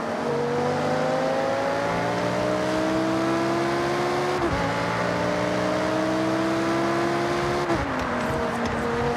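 A V10-powered supercar with race-car roots and a 205 mph top speed, driven in the video game Forza Horizon 6: a steady, high-revving engine drone that climbs in pitch, with two clear gear shifts dropping the tone.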